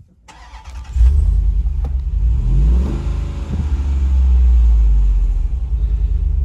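A Jeep Wrangler 392 V8 cranks and fires, then settles into a deep, loud idle with a slight rev. It is heard close up in Moab, with no talking.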